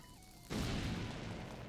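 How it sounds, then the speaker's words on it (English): A bomb goes off in The Legend of Zelda: Link's Awakening, a single sudden, loud, booming burst that follows a short game jingle and then holds as a long, rumbling wash before slowly fading. "Actually, can I throw bombs down there? Yes, I can."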